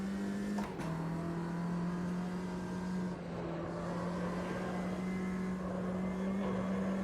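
Formula Vee race car engine in Automobilista 2 drones at a steady, sustained pitch, running loud and continuous for the whole stretch with a short dip and shift near the start, alone without talk.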